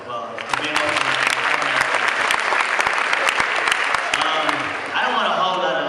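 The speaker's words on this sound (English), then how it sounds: "give yourselves a round of applause" An audience at a Howard Homecoming 2013 entertainment summit bursts into loud, dense applause, sustained rapid clapping from a large crowd that thins slightly near the end.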